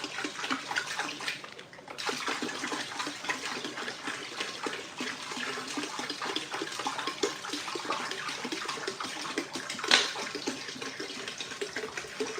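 Water pours steadily into a grow tent reservoir holding around fifteen gallons, a continuous close splashing gush that runs without a break, with a short brighter splash near the end.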